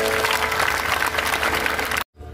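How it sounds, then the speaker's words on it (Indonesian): Applause from a church congregation during an evening worship service in Kuching, Sarawak, dense and steady for about two seconds before cutting off abruptly into near silence. "Beri tepuk tangan untuk Tuhan Yesus."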